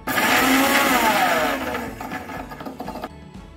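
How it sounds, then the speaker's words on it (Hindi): An electric mixer grinder blends coconut chutney with a little water, whirring loudly and steadily, then easing to a rougher, lower churn before cutting off abruptly near the end. "और ये मिक्सर में ऐड करूँगा, ढक्कन लगाऊँगा और इसको मैं चालू करूँगा।"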